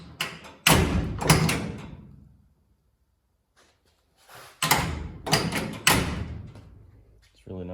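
A Chevy C10 truck door is shut several times against new door seals in a shop before painting, producing a series of heavy, close thuds in two bursts separated by a quiet pause.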